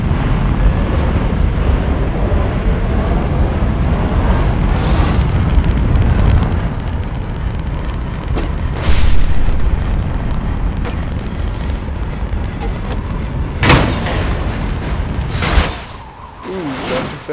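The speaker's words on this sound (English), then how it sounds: "Ooh, got too fast and it exploded." A sled in a racing game explodes after going too fast: a loud, sustained roaring rumble runs throughout, broken by several sharp blasts and bursts, before the noise drops away near the end.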